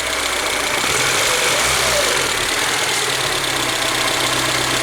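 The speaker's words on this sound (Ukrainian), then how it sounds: "Цілком добре воює двигун" A Daewoo Sens car engine idling steadily with a low, even rumble and faint mechanical knocking, continuous and fairly close.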